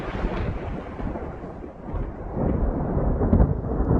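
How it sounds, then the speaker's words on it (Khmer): A cartoon thunderstorm rolls in with heavy rain, a deep continuous rumble of thunder that dips briefly and swells again, loud and enveloping, with a faint hiss of rain beneath and no voices. "មានភ្លៀងធ្លាក់ពីព្រោះមេឃចាប់ផ្ដើមងងឹត"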